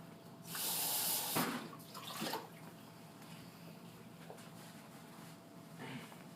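Cool water pours steadily from a tap into a bowl for about a second, then trickles and splashes briefly before fading to quiet room noise.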